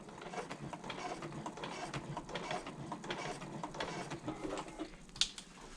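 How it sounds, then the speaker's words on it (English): A home sewing machine stitches across a bag liner at a pivot point, a steady dense mechanical whir with rapid ticking and a sharp click near the end, close and alone. "I'm going to pivot and sew across"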